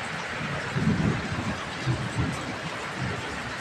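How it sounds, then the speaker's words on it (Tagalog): Heavy rain pouring steadily with low rumbling thunder rolling beneath it, a dense continuous wash of noise with a couple of deep swells. "Lakas ng ulan."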